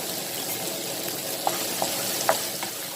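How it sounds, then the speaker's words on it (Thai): Crispy-fried moray eel meat stir-fried dry in a pan gives a low, even hiss of frying, broken by three or four light clicks of a utensil against the pan. "ถ้าผัดแห้งแบบนี้นะคะ เนื้อปลาจะกรอบค่ะ"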